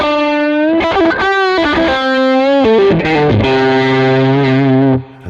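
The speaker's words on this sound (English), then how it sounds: "This is the sound without the reverb." Distorted Red Special electric guitar played dry with no reverb, a loud saturated lead melody of sustained bends and quick note runs that cuts off abruptly at the end.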